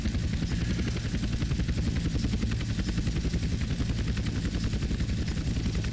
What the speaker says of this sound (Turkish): Helikopter yükselirken çok zor yükseliyor